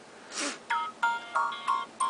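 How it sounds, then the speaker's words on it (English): A Sony Ericsson W760a phone plays a ringtone, a short run of bright electronic melody notes, loud and close, with no talking. "it has some ringtones currently loaded"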